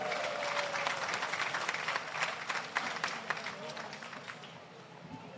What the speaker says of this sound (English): Another round of applause, please, for that rendition of Strive